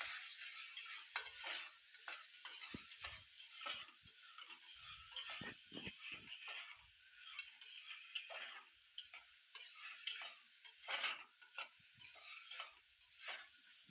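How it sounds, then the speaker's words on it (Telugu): Rice, vegetable pieces and salt being stirred together in a pot for vegetable biryani, with repeated scraping and clinking spoon strokes in an uneven rhythm, close and fairly quiet, with no talking. "వేసేసుకున్నాక ఇవన్నీ కలిపి మొత్తం ఒకసారి కలుపుకోవాలి"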